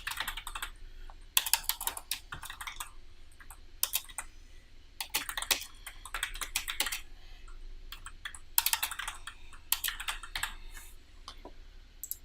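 Computer keyboard typing in bursts, rapid clusters of close, crisp key clicks separated by short pauses, with no voices.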